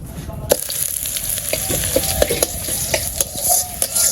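Curry simmering and frying in a pan, with a steady sizzle and intermittent stirring clacks and scrapes of a utensil against the pan, close and moderately loud throughout.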